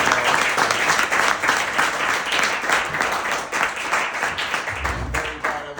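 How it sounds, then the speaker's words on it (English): Audience applause at a talk on Boston hip-hop history: a dense, continuous burst of clapping from a room full of people, loud and close, holding steady for several seconds before starting to thin out. "let's give him a little round of applause"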